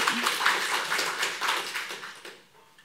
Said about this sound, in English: Applause, please, again.